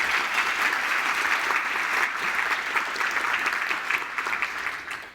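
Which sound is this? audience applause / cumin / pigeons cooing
audience applause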